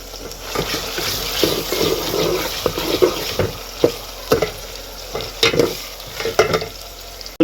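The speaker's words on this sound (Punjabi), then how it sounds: "ਤੜਕਾ ਵੀ ਤਿਆਰ ਹੋ ਗਿਆ, ਤੜਕਾ ਮੈਂ ਭੁੰਨ ਲਿਆ" Onion tadka frying in a pan, a steady sizzle with repeated stirring scrapes and clatters at close range, heard alone without talk.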